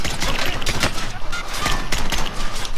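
Rapid gunfire in the Call of Duty: Modern Warfare game's gulag, loud dense bursts of shots crackling continuously throughout.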